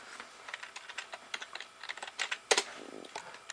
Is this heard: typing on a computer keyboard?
yes